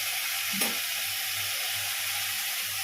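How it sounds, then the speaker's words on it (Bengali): Spices sizzle steadily in hot oil as a tempering for mung dal, with one small clink partway through and no voices. "মুগ ডালটা এখনও ফোড়ন দিয়ে নিই আমি"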